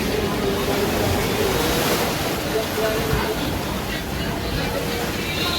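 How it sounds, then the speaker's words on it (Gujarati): Sea waves break on the shore at Diu beside a seaside Shiva temple, a constant rushing surf roar mixed with wind and a faint murmur of people nearby. "આ દીવનો દરિયો છે, બિલકુલ દીવના દરિયાના કાંઠે આવેલું છે આ ગંગેશ્વર મહાદેવ"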